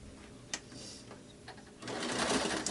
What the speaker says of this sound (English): just going to sew it right now real quick.